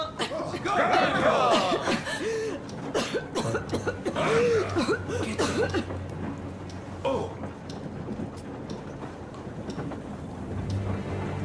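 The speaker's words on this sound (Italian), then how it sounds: "Cos'è questa tosse?" Anna coughing in the post-apocalyptic shooter Metro Exodus, aboard a train: a burst of harsh, repeated coughs over low rumbling ambience and scattered game voices, fading into quieter background hum.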